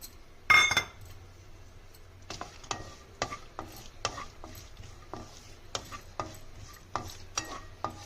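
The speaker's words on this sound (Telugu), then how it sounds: "ఫస్ట్ సన్నగా కట్ చేసి పెట్టుకున్న కొబ్బరి ముక్కలు వేసుకుందాం." Thinly cut coconut pieces tipped into a pan for frying: a sharp clatter as they drop in, then a soft sizzle under repeated light clinks of a spoon against the pan, close by, no voices.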